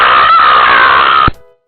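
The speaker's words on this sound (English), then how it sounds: "just scream as loud as you possibly can at a telemarketer" A person screams loudly and continuously at a telemarketer during a prank phone call, a sustained shrill shriek with a strained voice that holds for over a second before cutting off abruptly into near silence.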